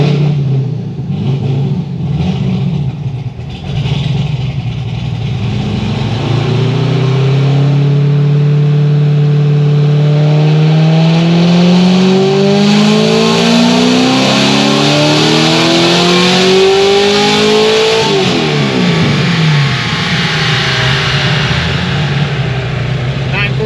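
A supercharged Stage 5 C6 Corvette Z06 runs a dyno pull, its engine roaring loud and close as the pitch climbs steadily through a long wide-open sweep before dropping off at the end.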